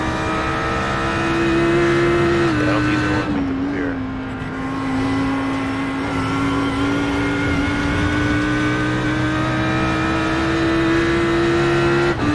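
Race cars lapping the Jefferson Grand Prix circuit at Summit Point in a racing video game, a loud sustained engine whine that holds, dips and rises again as the cars run, with a commentator talking over it.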